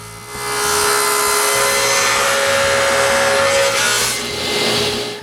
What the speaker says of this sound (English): Then I cut each end at 45 degrees.